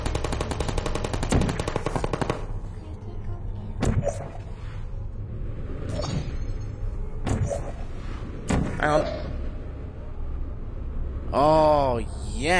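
Sentry turret in the video game Portal firing bursts of rapid gunfire, with sharp shots and mechanical clicks spread across the scene and a rising whirring sweep near the end, over a continuous game background hum.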